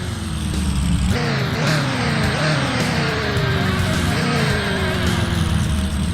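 A 1970s truck engine roars in the driving simulator Rigs of Rods, loud and steady throughout. The pitch climbs under acceleration and drops back several times as the gears change.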